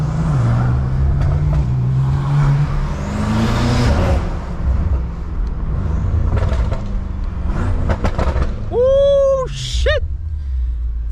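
A BMW G80 M3 and an F90 M5 rev their engines inside a tunnel, a loud, sustained roar rising and echoing while voices talk over it, ending in a few sharp whistling sweeps.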